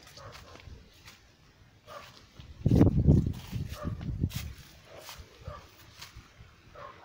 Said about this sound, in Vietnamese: Chó nó sủa vậy chứ.